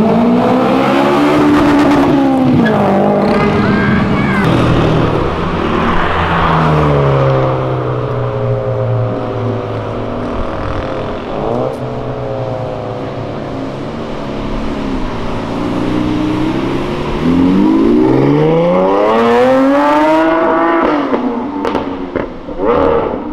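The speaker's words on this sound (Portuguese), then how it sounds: "vocês viram a SVJ acelerando?" A Lamborghini Aventador SVJ engine revs hard and accelerates, its pitch sweeping up and down in loud roaring waves, with a short pause midway before another rising roar.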